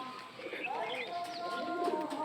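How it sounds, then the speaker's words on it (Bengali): Pigeons coo softly on a farm, several low, rolling calls overlapping at close range, with a person speaking over them. "সবগুলো কবুতর ছেড়ে দিচ্ছি"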